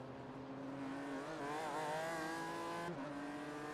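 Aston Martin race car at the Nurburgring Nordschleife during the 2025 24-hour race, its engine note rising and falling steadily as it accelerates out of the Carousel, loud and continuous with a gear-change dip near the end, no talk.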